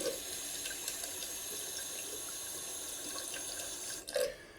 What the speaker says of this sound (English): I usually heat up the razor under the water tap with some hot water